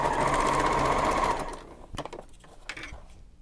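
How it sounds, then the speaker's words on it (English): A sewing machine runs steadily, stitching a diagonal line across a messenger bag, its rapid buzzing whir holding loud and close for over a second before stopping, followed by a few soft handling clicks and bumps. "And I sew another diagonal line parallel to the first."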